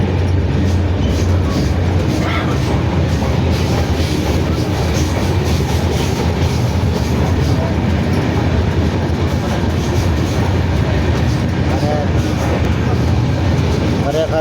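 Inside a moving train, a loud continuous rumble and rattle of wheels on track carries on steadily, with voices murmuring beneath the noise.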